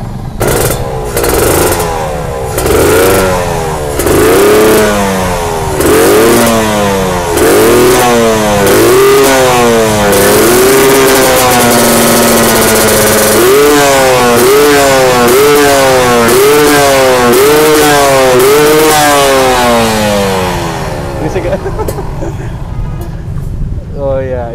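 Suzuki Satria FU motorcycle fitted with a Kawasaki Ninja two-stroke engine, revved repeatedly in loud, rising and falling bursts close by, the throttle blips coming in a steady rhythm throughout.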